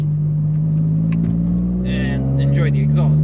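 A Toyota GR Corolla fitted with an AWE exhaust accelerates, its engine droning in a steady low hum that climbs slightly in pitch, with brief voice-like sounds near the end.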